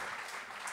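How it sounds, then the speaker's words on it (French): A conference audience claps for two guests in a brief, even burst of dense applause, fairly soft and sustained without pause. "Je pense qu'on peut applaudir nos deux invités"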